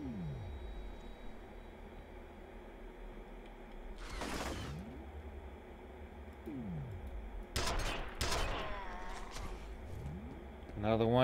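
Gunfire in the first-person shooter F.E.A.R. pops in short bursts over a steady droning game background, with a dense volley near the end and someone speaking at times.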